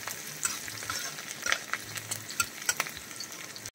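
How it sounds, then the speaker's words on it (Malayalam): Ginger, garlic, green chili and cumin sauté in a pan for a squid roast, giving a close steady sizzle broken by repeated scraping stirs, with no talking. "ഇത് നന്നായിട്ടൊന്ന് വഴറ്റിയെടുക്കാം."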